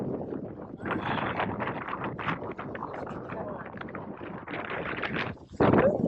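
Strong wind buffets the microphone on a jetty during lure fishing for speckled trout, a steady rushing roar with gusty bursts, close and loud throughout, with a short louder blast near the end.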